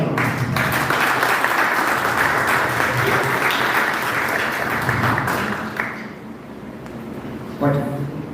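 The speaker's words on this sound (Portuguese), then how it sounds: "Vamos dar uma salva de palmas." A church congregation applauds loudly and steadily for several seconds before the clapping thins out, with a voice briefly heard near the end.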